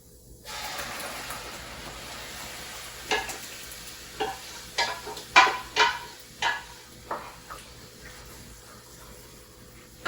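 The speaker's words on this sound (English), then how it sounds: "I'm going to throw in my little cinnamon stick here, and then I'm going to dump the lentils." Lentils and a cinnamon stick tipped into a hot pot for sweet dal, followed by a run of sharp sizzling bursts and stirring scrapes that fade between strokes.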